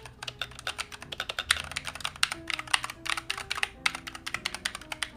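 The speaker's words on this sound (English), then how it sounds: "Nice, my new keyboard." A new, fairly loud mechanical keyboard clacks in fast, continuous typing, close up and alone.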